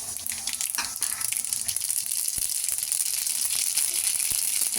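Mustard seeds sizzle in hot oil in a pan while an Iyer-style mor kuzhambu is cooked. A steady, close hiss runs throughout, with a few sharp pops and crackles.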